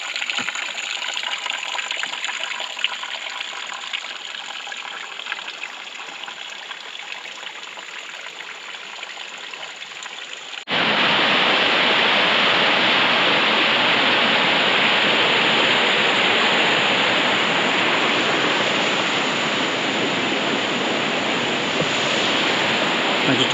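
Water gushes down a stream or waterfall by a lake in the Lake District, starting as a quieter distant rush and then swelling into a loud, close, continuous roar of falling water.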